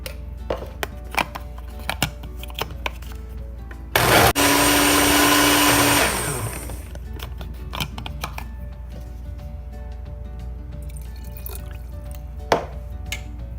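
A blender pureeing pumpkin roars loudly for about two seconds, then winds down, with quiet kitchen clatter before and after.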